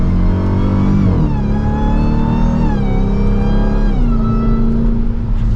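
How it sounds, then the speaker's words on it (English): Dodge Durango SRT Hellcat three-row SUV engine pulling hard under acceleration, its loud supercharged V8 note rising in pitch then dropping sharply at each of several downshifts, close and continuous with no talking. "So we downshift again, a little bit of a delay on those shifts."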